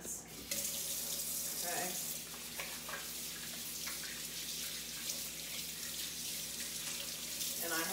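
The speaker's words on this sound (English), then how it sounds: "I'm gonna wash my hands" A kitchen faucet runs steadily into the sink while hands are washed after handling meat, a constant close splashing hiss under a brief spoken word from a person.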